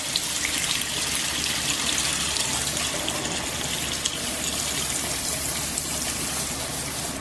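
Fryer oil drains through a 300 micron filter basket with a steady, close gushing rush of liquid, like a tap running, continuous and fairly loud with no talking.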